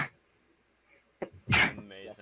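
A person sneezes once, a sudden loud burst after a short inhaled build-up, followed by brief talk from people nearby.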